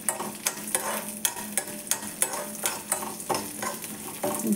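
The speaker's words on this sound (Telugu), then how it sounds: "ఇట్లా దోరగా వేగింది." Chana dal and urad dal stir-fry in a pan for curry leaf podi, giving a steady close sizzle broken by regular scraping strokes of a spoon, roughly one every half second, with no talk.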